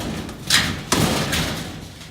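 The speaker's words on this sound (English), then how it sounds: "I think the first business is gonna be getting this dang door open" A stuck, iced-up door being forced open, heard as two sharp thuds, one around mid-clip and a heavier slam just after, over a steady background rustle.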